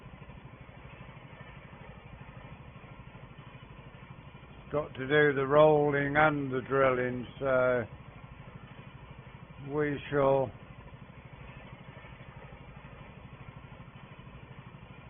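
A steady engine drone from a little old Porsche tractor working on a farm runs throughout, while someone talks over it for a few seconds.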